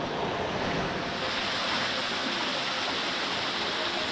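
A small waterfall cascade flowing over boulders at Hidden Falls near Maleny on Queensland's Sunshine Coast, heard as a steady, loud, close rush of water with no break.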